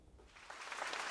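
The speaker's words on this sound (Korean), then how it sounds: "박수를 받으며 강연장으로 들어서는 한강 작가." Applause from an audience in a lecture hall greets Han Kang as she arrives to give her Nobel Prize in Literature lecture, a soft, dense patter of many hands clapping that swells slightly toward the end.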